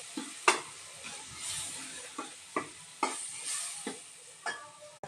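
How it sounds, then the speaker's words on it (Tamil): Tomatoes fry in oil with softened onions for a small-onion gravy, giving a continuous soft sizzle broken by regular scraping stirs of a spoon against the pan, roughly every half second to a second. "நம்ம தக்காளி ஆட் பண்ணிக்கலாங்க. நல்லா நம்ம ஃப்ரை பண்ணிக்கலாம்."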